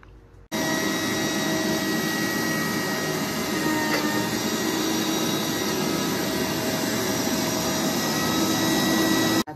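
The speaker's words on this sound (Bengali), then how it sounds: "আচ্ছা, তো এটা ব্লেন্ড করে নেওয়া হোক।" An electric kitchen blender runs steadily, blending cooking ingredients with a loud, continuous whir that starts abruptly and holds near and even throughout.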